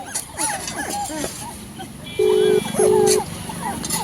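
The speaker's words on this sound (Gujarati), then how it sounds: "આ જો ગલુડિયો રમી" A playing puppy gives high, thin whines and small yips in short bursts, close by, while people talk over it.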